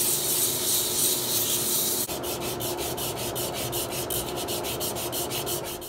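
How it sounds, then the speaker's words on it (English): Continuous scraping hiss of a 1-inch skew chisel smoothing the outside of a bud vase spinning on a wood lathe, smooth and steady, then turning into a rhythmic rasping pulse partway through. "I'll use a 1-inch skew to smooth out the outside"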